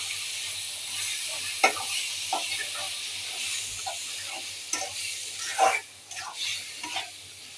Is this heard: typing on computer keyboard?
no